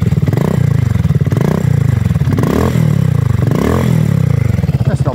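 A new BSA Gold Star motorcycle exhaust, its baffle fallen out, roars loud and close, its throttle blipped in repeated rising surges over a throbbing idle.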